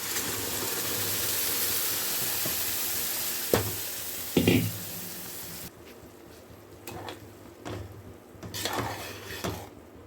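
Ground gongura (sorrel leaf) paste going into a hot pan for a gongura curry, bringing a steady close sizzle and frying hiss, then a few clinks and stirring scrapes as the sizzle quiets partway through.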